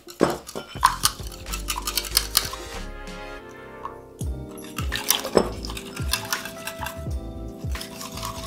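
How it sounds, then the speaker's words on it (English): Eggs dropped one at a time into chocolate blackout cake batter in a mixing bowl, with a string of sharp clinks and taps against the bowl, crisp and close, mixed with stirring scrapes and no talking. "now we're gonna add the eggs one at a time"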